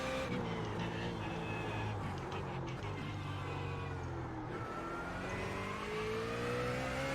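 A BMW Z4 GT3 race car in the iRacing simulator on the Nordschleife drives with a loud, continuous engine drone that rises and falls through braking and gear changes into a curve.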